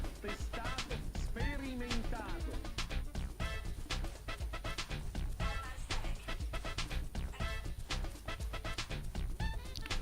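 Dog panting in the horror video game Deadly Premonition, a steady run of breathy pants with occasional whimpers over game sounds and music, continuous for about ten seconds.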